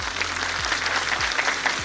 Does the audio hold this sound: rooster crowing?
no